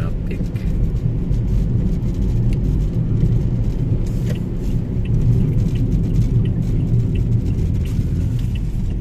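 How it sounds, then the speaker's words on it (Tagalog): Road traffic on a street in Davao City, a continuous low rumble of cars and engines with passing vehicles, steady and fairly loud throughout. "Wait, traffic."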